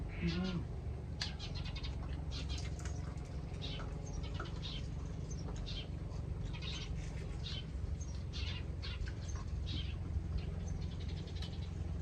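A cat meows repeatedly against a steady background hum, with faint voices nearby.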